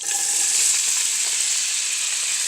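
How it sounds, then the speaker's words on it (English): Water sizzles steadily in a hot pan of meatless vegetable spaghetti sauce, a continuous loud hiss with no voices. "a little water in here. It might sizzle."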